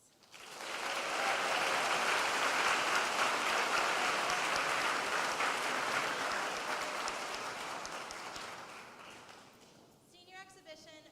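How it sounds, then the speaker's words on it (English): Graduation audience at Oceana High School applauding seniors, a dense, loud crowd of clapping that swells quickly, holds, then fades near the end as a voice begins. "would everybody give them a round of applause?"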